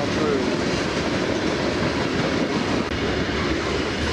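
A westbound CSX freight train rolls through a grade crossing in Huntington, West Virginia, a loud, steady roar of rail cars and wheels that holds without a break.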